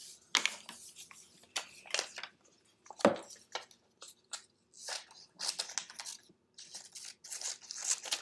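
Crisp, close snips and crunchy paper cuts in irregular bursts as scissors trim paper for a simple dove of peace collage, with brief pauses between cuts.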